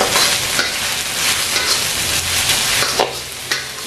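Shrimp fried rice ingredients are stir-fried in a pan, a steady close sizzle with spatula scrapes and light clinks against the metal.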